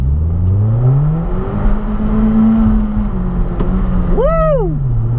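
Hyundai Genesis coupe with 213 hp, stability control switched off, accelerating hard with a rising engine note that climbs steeply, then drops sharply as a gear change or lift-off near the end, loud and close throughout.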